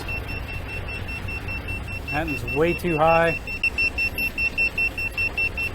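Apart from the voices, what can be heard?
carbon monoxide detector alarm beeping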